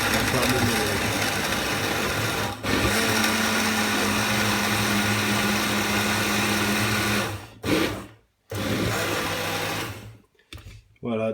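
A countertop blender whirs steadily as it purées almond milk, berries and peanut butter into a snack, a loud, continuous motor drone that cuts out briefly, restarts, then stutters and stops near the end.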